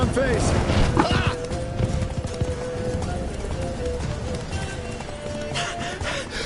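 Roach, the horse in The Witcher 3: Wild Hunt Blood and Wine, gallops with steady, loud hoofbeats that continue throughout, mixed with game music and ambient sound, while a voice speaks over the ride.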